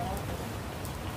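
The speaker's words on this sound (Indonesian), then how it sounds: "Hujan mas. Hujan." Rain falls in a steady, close patter, a soft, even hiss of drops on a surface with no break, and a faint voice may sit beneath it.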